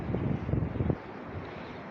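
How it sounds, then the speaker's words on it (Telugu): Strong outdoor wind buffets the microphone in Kuwait during a hot, dusty summer day, with gusty low rumbling that is loud for the first second and then settles into a steadier, softer rush. "ఈరోజు గాలి ఎక్కువ తోలుతుంది"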